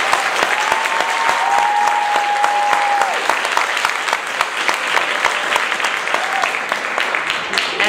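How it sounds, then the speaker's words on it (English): An audience at a middle and high school orchestra event in the Cape Fear High School district applauds the orchestra program leader, sustained loud clapping with a brief whistle-like tone heard early on. "So we need to give him a round of applause."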